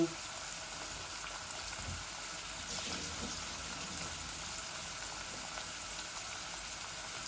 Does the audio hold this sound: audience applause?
no